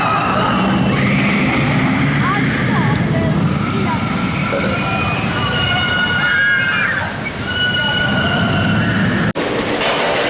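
The Infusion roller coaster at Blackpool Pleasure Beach thunders along its track with a loud, continuous rattling rumble and high squealing from the wheels. The roar holds steady, then cuts off abruptly near the end.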